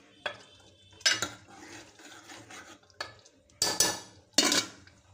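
Hard-boiled eggs being stirred into egg curry in a pan: a utensil scrapes and clinks against the pan in several distinct, fairly loud bursts separated by quieter gaps.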